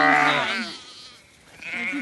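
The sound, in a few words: sheep and lambs in a field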